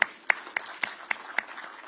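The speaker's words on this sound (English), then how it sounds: "I think they deserve a big round of applause" A few scattered, sparse claps ring out at a football trophy launch event, about six distinct hand claps spaced fairly evenly and quiet, with no crowd swell.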